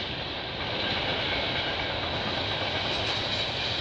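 A CP/CN freight train with flat cars carrying steel plates rolls past in Milton, Ontario, with a continuous rumbling roar and steady rail noise, sustained and fairly close, with no voices.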